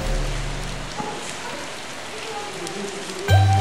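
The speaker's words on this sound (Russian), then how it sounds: "А дождь все льет и льет." Rain pours in a soft, steady patter that holds evenly through the moment, with faint tonal sounds layered above and a brief louder swell at the very end.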